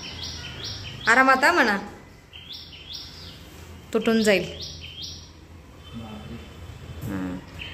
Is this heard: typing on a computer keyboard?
no